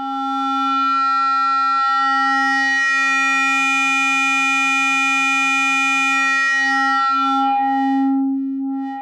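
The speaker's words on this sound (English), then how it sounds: "So that would be the sweep we would expect out of a Serge." Serge wave folder on a Eurorack modular synthesizer sweeping a steady tone, its buzzing harmonics brightening and shifting over a held pitch for several seconds, loud and alone.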